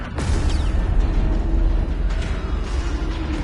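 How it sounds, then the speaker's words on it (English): Explosion aboard a Cabal-held ship in the game Destiny 2, a loud deep boom with rumbling low-end roar and mechanical rattling debris that keeps droning after the initial blast. "That explosion came from the propulsion deck."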